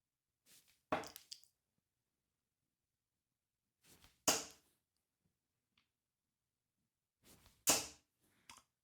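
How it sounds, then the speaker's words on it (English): Three darts thrown one at a time into a dartboard, each landing with a sharp, close thud, spaced about three seconds apart in an otherwise quiet room. "Let's throw these 3 darts using our arm."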